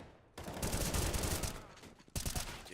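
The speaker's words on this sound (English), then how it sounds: "The fadeaway shot with the final 3 bullets of his M4 round." Bursts of M4 rifle fire in a Counter-Strike esports match, a dense rattling volley of about two seconds followed by a shorter burst, loud and near, under faint background noise.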